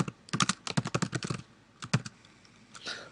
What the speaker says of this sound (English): Now we're going to start typing some data in.